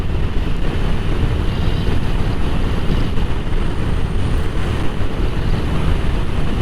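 A Vespa GTS 500 scooter cruising at about 80 km/h gives a loud, steady engine drone swamped by heavy wind rush, unbroken throughout with no talking.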